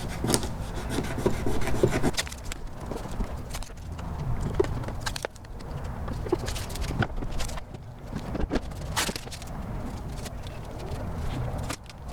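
A rag wipes cleaner off car door trim in repeated close scrubbing strokes, a rough rhythmic rubbing with brief pauses and small knocks between passes.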